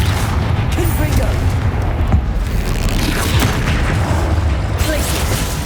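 Confringo blasting-spell explosions in the Hogwarts Legacy video game, heavy booming bursts layered over a continuous dense rumble of combat effects, loud and close throughout.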